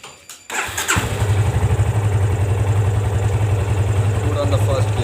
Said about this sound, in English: Let's start your bike.